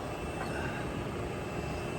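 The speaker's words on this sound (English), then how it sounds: "The electric fan right there. Engine is off." An electric cooling fan in a high-mileage hybrid car whirs steadily with the engine off, giving a constant, even, broadband rush with no changes in pitch or level and no talking.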